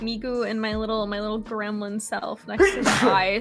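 A single sharp sneeze bursts out near the end, following steady talking during a relaxed chatting and doodling stream.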